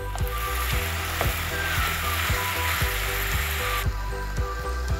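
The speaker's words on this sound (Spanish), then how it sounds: "Incorporé la carne picada. Vamos a ir revolviendo, así no se nos apelotona." Minced meat sizzles steadily in a pan while being stirred, with a spatula scraping and tapping the pan at a regular rhythm, close up and with no talking.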